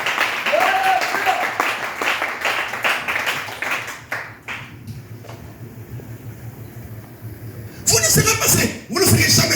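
A church congregation breaks into applause, with dense rapid clapping that fades to quieter room sound and then swells into a second burst of clapping near the end, with speech mixed in.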